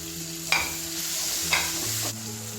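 Tomatoes and green chillies frying in oil for an Assamese fish curry, a continuous sizzle with two sharp stirring scrapes and a low background hum, close by.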